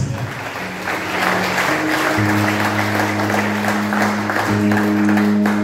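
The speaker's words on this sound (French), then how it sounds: "Acclamez Jésus pour ma voix" A church congregation applauds for Jesus, with steady, dense clapping from a crowd that carries on for several seconds, while a sustained tone plays underneath it.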